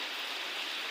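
Rain pours down in a steady, dense hiss, loud and close, with no break for the full second.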